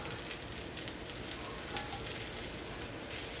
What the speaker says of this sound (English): See how this like garlic kind of burns on there?